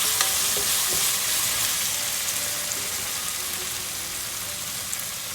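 Garlic ginger paste sautés in a hot pan for tomato rice, giving a loud, dense, unbroken sizzle close by with faint stirring scrapes underneath and no one speaking.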